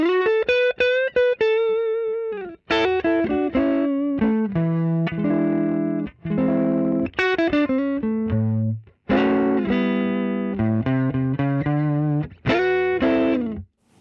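An overdriven electric guitar on a Fender Telecaster's neck pickup plays a smooth, bluesy phrase of sustained single notes and bends, warm and fairly loud, with brief pauses between licks.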